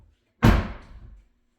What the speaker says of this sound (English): I am gonna have to close my door all the way